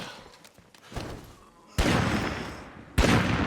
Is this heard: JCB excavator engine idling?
no